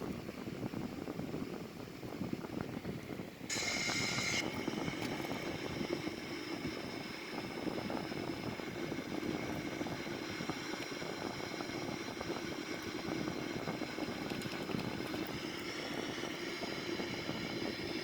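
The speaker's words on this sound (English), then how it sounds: "beautiful view of the Boeing 787 as we take off" Boeing 787-900 taking off, a steady loud broadband roar of engines heard from inside the cabin throughout, with a brief high whine near the start.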